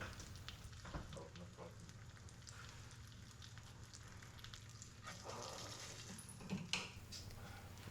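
An egg fries in a pan, giving a soft, steady sizzle with faint crackles and a few light clinks, fairly quiet and without speech.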